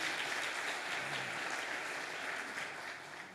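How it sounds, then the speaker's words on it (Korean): Congregation applause at a Christmas Day church service, a dense steady wash of clapping from a crowd that fades slightly toward the end, with no voices over it. "박수로 한번 격려해 주시기 바랍니다."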